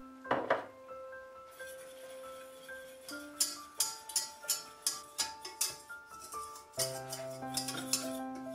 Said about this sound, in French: j'ajoute la farine et je fouette bien pour incorporer les deux